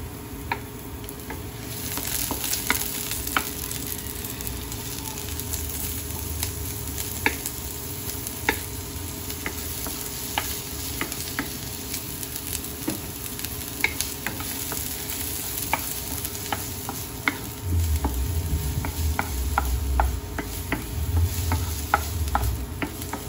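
Onions sauté in a pan for pancit canton guisado, a continuous loud sizzle and crackle broken by frequent spatula taps and scrapes, heard close and alone, with a low rumble joining toward the end.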